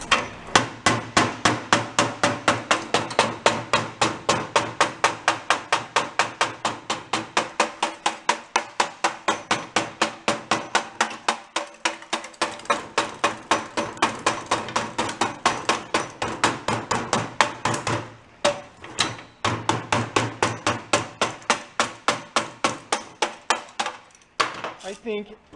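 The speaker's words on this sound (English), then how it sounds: "Let's tap on it a little bit." A hammer tapping on the rotted exhaust of a Honda Trail 90 that sat for 37 years, a long run of steady, evenly spaced metallic knocks, loud and close, with brief pauses near the end.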